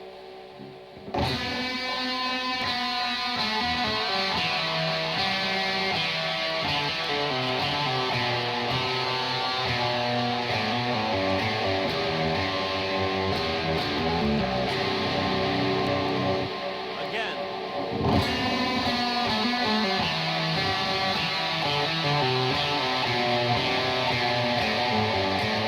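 A distorted electric guitar plays a lick slowly and then faster, a sustained saturated tone with a brief pause near the middle before the playing resumes, loud and without any voice.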